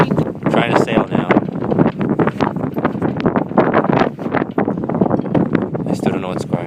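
A sailboat under way in wintry December wind, with steady, loud gusting and rushing noise on the microphone throughout and people talking over it.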